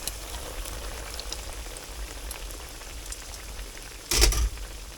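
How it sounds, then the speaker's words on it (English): A pork chop sizzles and crackles in hot oil in a cast iron pan, a steady close hiss of fine popping, then a sudden louder burst of spitting near the end. "We're going to give the pork chop a little shake, and then slowly dip it into the oil"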